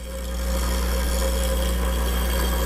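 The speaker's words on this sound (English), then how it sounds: "Now on the nose, I'm going to grind a little longer and try to round it off." A bench grinder rounding off the nose of a tool being sharpened, a steady even whine and hum holding constant throughout, close by and alone without any talk.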